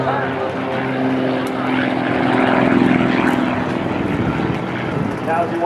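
Propeller airplane roaring through a high-speed angled turn at an Independence Day airshow at the Battle Creek Field of Flight and Balloon Fest, a steady loud engine drone with a rising swell near the middle and a faint voice beneath.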